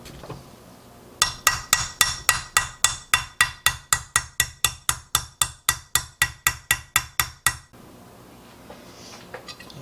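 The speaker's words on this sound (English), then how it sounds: "I heard the tone of the hammering of the bearing change when it bottomed out" Steady, evenly spaced metallic hammer blows drive a bearing into place on a KTM 65 dirt bike during clutch and water pump work, roughly thirty sharp ringing strikes close up, then the hammering stops.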